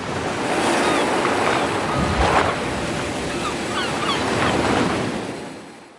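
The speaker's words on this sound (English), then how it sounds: "sound clips of squalling seagulls, crashing and rumbling of the ocean" Ocean surf crashes and rumbles in a steady broad wash, swelling and easing, with faint gull cries scattered through the roar.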